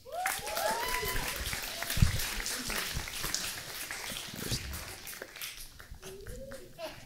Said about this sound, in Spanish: Un aplauso para el señor Iván Mendoza.